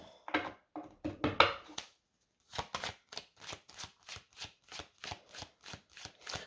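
Cards are shuffled from a deck in quick riffling bursts, followed after a short pause by a steady series of about a dozen soft, evenly spaced slaps as cards are laid down one by one, close and quiet.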